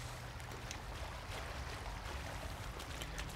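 Water flows steadily through a level in the game Inside, a quiet, continuous rushing wash with faint trickling detail and no other sounds over it.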